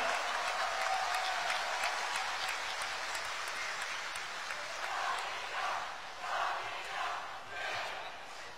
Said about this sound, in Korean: 여러분 뜨거운 박수로 맞이해 주시기 바랍니다.